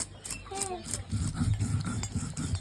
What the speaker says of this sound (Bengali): কাঁচা জিরে পায়েল বাটতে একটু কষ্ট হবে।